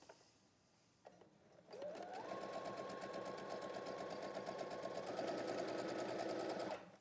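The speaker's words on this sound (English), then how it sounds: "I'm going to use a centre needle position, regular sewing length, stitch length, and I'm going to sew on the line" Sewing machine running steadily along a marked line with a centre needle position and regular stitch length, a brief start-up then a continuous, even motor whir and fast needle rhythm that holds for several seconds before cutting off.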